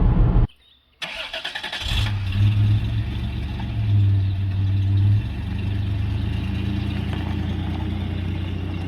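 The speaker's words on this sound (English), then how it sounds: "Just watching Logan drive off in the distance." A 1994 Toyota 4Runner engine starts with a short crank and settles into a steady mid-pitched hum as the vehicle pulls away, loud and close at first with a sustained drone.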